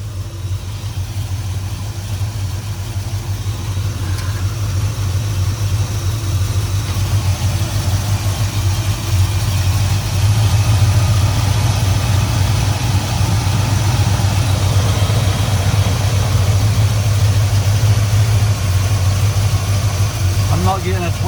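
An old car's engine idles steadily with the choke on, a low even rumble close by that holds throughout while people talk over it.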